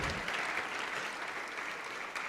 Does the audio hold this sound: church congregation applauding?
yes